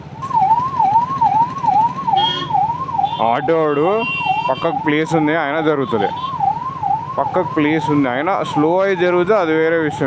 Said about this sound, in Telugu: సైడ్కి మళ్ళీ అంబులెన్స్ వస్తుంది